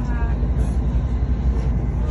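A steady, close, low rumble of a passenger train running along the rails in England, continuous and even throughout with no other sounds standing out.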